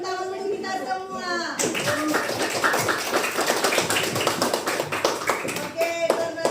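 Classroom of children applauding together, the clapping kicking in after a short spoken line and carrying on as a busy, continuous patter of hands, with voices mixed in near the end.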